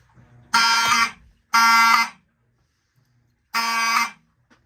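A smoke detector alarm sounds during a system test, three loud harsh buzzing blasts of about half a second each, the first two close together and the third after a longer gap, with near silence between.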